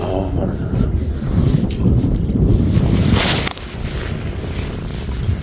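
Wind blows steadily and loudly across the microphone at a seaside harbor in Dangam port during rainy, windy walking fishing for cuttlefish and webfoot octopus, with rushing gusts throughout and no voices.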